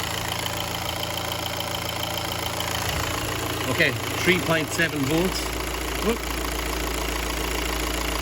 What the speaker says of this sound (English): So I'm going to put the phone in around the engine. It's going to get noisy